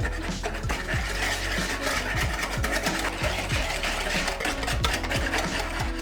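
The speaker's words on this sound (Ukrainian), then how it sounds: "Перемішуємо це все вінчиком, щоб утворилася однорідна маса." A whisk beats sugar, kefir and oil into chocolate cupcake batter in a bowl. The strokes scrape in a fast, steady rhythm of repeated swishes that stay close and clear with no talking.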